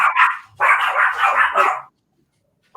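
Dogs bark loudly and close, a short burst then a longer run of sharp, overlapping yaps, followed by silence.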